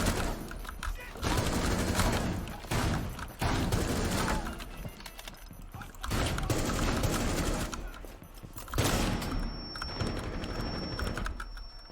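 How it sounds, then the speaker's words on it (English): Automatic assault rifle or SMG fire in Rainbow Six Siege, loud sustained bursts broken by short pauses, dense rapid shots repeating across several sprays, with clicks and mechanical handling between bursts. "if you're running something like this, you're going to be wanting to watch your recoil control"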